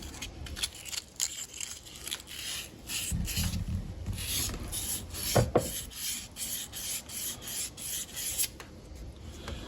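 Rubbing and scraping as residue is cleaned off the arbor shaft of a Diamond Pacific Genie lapidary machine, which runs in a bronze bushing; steady close scrubbing strokes with a few sharper knocks midway, no talking.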